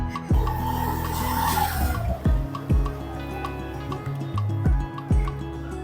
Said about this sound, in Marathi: तो बटाटा आणि तो किसणीवरती किसून पण घेऊया